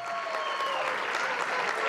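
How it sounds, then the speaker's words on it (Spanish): Wedding guests applaud the bride and groom at a reception, a loud, continuous burst of clapping from a crowd, briefly with faint voices mixed in. "Aplauso fuerte para esta bonita pareja."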